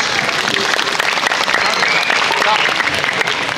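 Crowd at a Balinese temple ceremony in Penglipuran village applauding, loud dense clapping filling the whole stretch with a busy crowd murmur mixed underneath.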